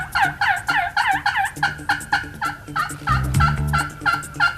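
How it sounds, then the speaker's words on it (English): Wild turkey toms gobble on a property during a spring turkey hunt, with repeated rapid, rattling gobbles overlapping from several birds, loud and fairly close, and a deeper rumble near the end. "We heard gobbles from everywhere."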